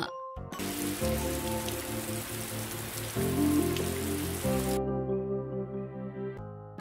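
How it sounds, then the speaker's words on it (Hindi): Steady rain hisses as a broad, even wash of falling drops, laid over a bright melodic music track, then cuts off abruptly while the tune carries on. "वर्षा"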